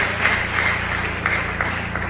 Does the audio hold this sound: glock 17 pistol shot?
no